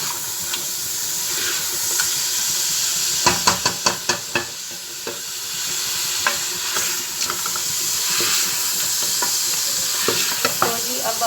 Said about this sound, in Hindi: फ्राई करना है कि लहसुन का जो है वो कच्चापन निकल जाए